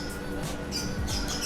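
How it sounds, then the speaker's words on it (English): Faint bird squawks and chirps repeat irregularly over a steady background hum, somewhat distant. "We do have some birds in the background, so apologies about the noise there."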